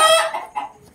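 A hen clucks a few quick, close, sharp notes in a short burst, clear against a quiet background.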